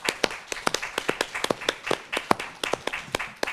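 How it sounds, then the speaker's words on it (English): Seminar audience clapping at a university biomedical sciences event, sparse and uneven individual claps from a small group, close and fairly quiet, with no talk over it. "Let's give them a hand of applause."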